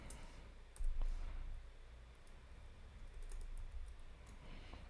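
Typing a command on a computer keyboard in Git Bash, a few close, quiet key clicks and taps over a low room rumble, with no voice.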